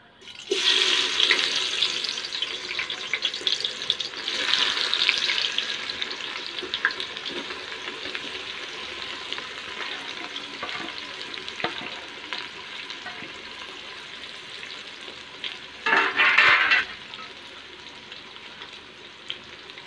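Four medium onions, finely chopped, hit hot oil for beef nihari, a loud hiss right at first that settles into a steady sizzle, with another surge of stirring near the end; no voices.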